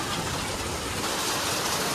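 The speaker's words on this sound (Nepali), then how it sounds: "असिना पर्यो।" Hail comes down outdoors in Kathmandu as a steady, even rushing patter, close and continuous for a couple of seconds with no voices.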